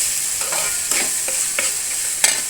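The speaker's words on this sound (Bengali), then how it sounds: "আর একটু কষিয়ে নিই" Prawns and lotus stolons in a curry being sautéed in a pan, a steady close sizzle broken by several sharp scrapes of a spatula stirring, no voices.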